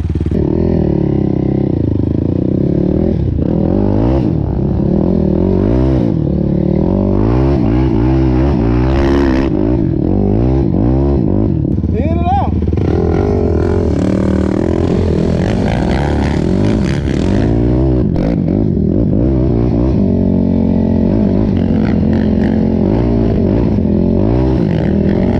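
A Yamaha YFZ 450 ATV rides along trails, its engine loud and close throughout, revving and easing with clatter and scraping from the rough ground.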